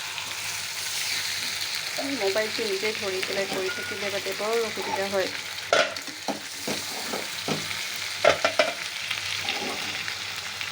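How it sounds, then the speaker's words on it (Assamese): Meat frying in a pan with steady sizzling while a utensil scrapes and stirs it in sharp clatters and knocks, close by, with a person speaking over the cooking. "মোৰ মাংস ভাজাও প্ৰায় হৈয়ে গৈছে।"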